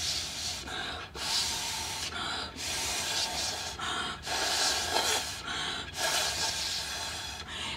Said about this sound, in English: take a deep breath and blow.